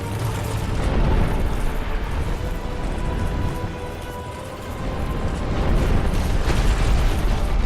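Roaring fire blast from a boss attack in Dark Souls 2, a dense sustained rumble with surging bursts that swell near the start and again toward the end, loud and continuous without speech.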